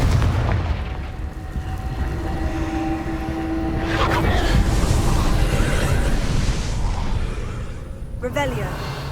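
Spell blasts from the Confringo fire spell in Hogwarts Legacy boom through dense game action, with a loud burst around the middle and another sharp crackle near the end, all under steady background rumble and some talk.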